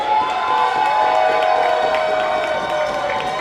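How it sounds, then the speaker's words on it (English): Wrestling crowd roaring for the reigning 880 Tag Team Champions, the Fourth Line, as they make their entrance: a loud, dense, sustained arena cheer with a constant wash of voices and no break. "What an electric response from the crowd."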